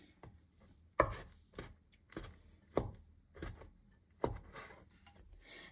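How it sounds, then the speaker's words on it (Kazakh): Meat for a samsa filling is chopped with a knife on a board in sharp, uneven strokes, about one every second, quiet and close with no talking. "Етімізді турап болдық."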